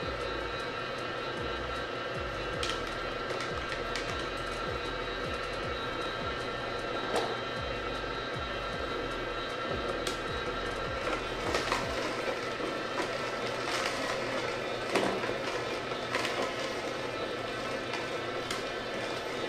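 A Kuvings CS700 commercial slow masticating juicer works through the last few carrots, its motor a steady, loud droning hum with faint irregular crunches and clicks, and no talk.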